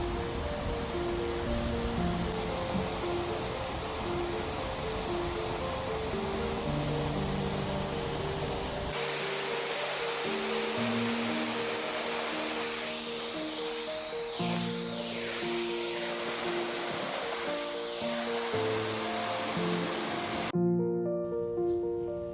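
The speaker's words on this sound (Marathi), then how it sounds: "डोंगर धऱ्यातून वाहणारे पांढरे शुद्ध धबधबे आपले सागर संगीताने मंत्रमुक्त करतात" Steady white rush of waterfalls pouring down mountain cliffs in misty, cool hill country at Machal, Ratnagiri, Konkan, a dense continuous roar with music playing over it and no break.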